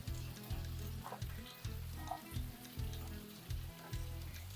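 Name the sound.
mustard seeds and sesame seeds frying in oil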